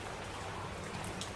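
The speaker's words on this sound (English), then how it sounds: "Maybe you can hear the rain behind me." Light drizzle falling outdoors makes a steady, soft hiss of rain, with a few faint drips standing out near the end.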